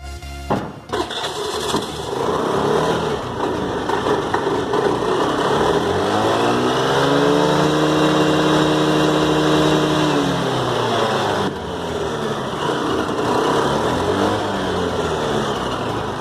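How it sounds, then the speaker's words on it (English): A scooter's electric self-starter, left unused for six months, cranks and strains to turn the engine over, a loud continuous whirring groan that rises and falls in pitch as the motor labours, close by. "so the self motor is struggling a little bit hard."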